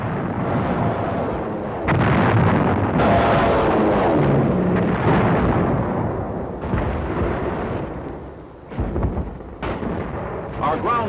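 Loud WW2 combat booms from Navy dive bombers and rockets blasting Japanese batteries and defenses on Saipan, a continuous heavy rumble of explosions and bursts with sharp impacts near the end, under narration.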